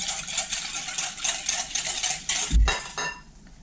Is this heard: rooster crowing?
no